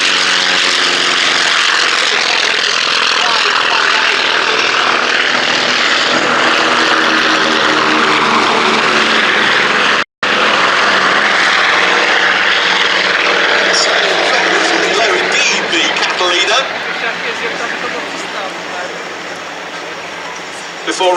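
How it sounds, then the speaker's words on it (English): A Grumman FM2 Wildcat naval propeller fighter roars through its takeoff roll at the Duxford Battle of Britain Air Show, a loud, sustained engine drone with a brief cut partway, easing slightly toward the end while a commentator talks over it. "there it is, on its takeoff roll, that little naval fighter, the Grumman FM2 Wildcat"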